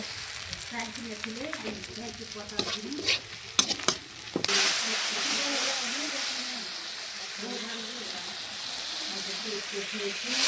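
Chopped onion, garlic and broken dried chilies fry in oil for dal. A few stirring knocks and scrapes sound under a speaking voice, then a loud, steady sizzle takes over.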